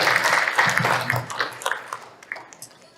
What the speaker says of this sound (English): please give us a round of applause for these esteemed